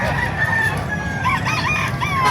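A rooster crows loudly nearby, a drawn-out call followed by short clucking notes over a noisy background.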